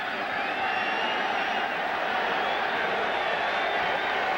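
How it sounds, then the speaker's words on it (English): A roaring stadium crowd fills the air at a 2002 Dallas Cowboys at Arizona Cardinals NFL game, a steady, dense wash of voices with faint whistling rising above it. "Well, that's the crowd noise."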